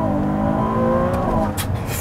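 A 2023 Ferrari 296 GTB twin-turbo V6 hybrid supercar revving hard toward 8,500 RPM, a loud, sustained high engine wail with a rising harmonic whine that holds steady, then roughens briefly near the end.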